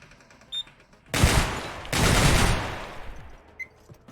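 Gunfire from turrets in the shooter game Receiver 2, two loud sustained bursts of rapid shots back to back, close and harsh, with brief quieter clicks before and after.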